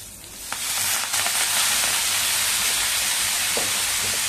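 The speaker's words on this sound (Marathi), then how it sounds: "चांगली भाजी परतवून घेऊया याच्यामध्ये तेलामध्ये" Fenugreek leaves sautéing in hot oil give a steady, close sizzle and hiss that holds loud throughout, with a few light stirring scrapes near the start and again later.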